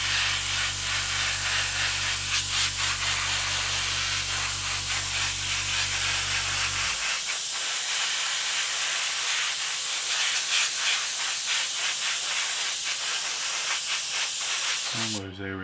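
An airbrush sprays paint onto the seat of a Revell 1/48 Rafale M model kit, a steady close hiss running throughout over a low compressor hum that drops away partway, ending with a brief clatter.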